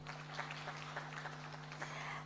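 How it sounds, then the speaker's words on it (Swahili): Audience applause at a USAID Tuwajali Watoto activity launch, a steady even patter of clapping from a seated crowd heard over a constant electrical hum from the hall's sound system. "Makofi mengi mengi kwake."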